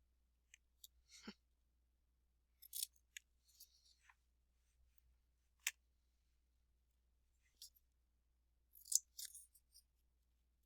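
Scissors snip paper, cutting the angles off a paper triangle in a quiet room: a handful of short, sharp, irregular crisp cuts separated by silence.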